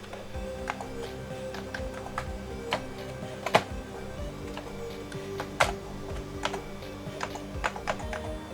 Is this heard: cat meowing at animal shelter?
no